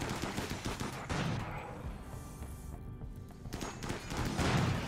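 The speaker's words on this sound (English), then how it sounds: "The uranium slug turrets are amazingly powerful." Uranium slug turrets fire in the Rimworld video game, a dense run of rapid, loud gunshot-like bursts that carry on through most of the moment, fading briefly near the middle before swelling again.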